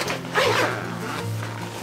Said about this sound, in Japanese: ここはチャックを開けて、